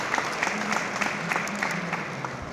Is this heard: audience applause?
yes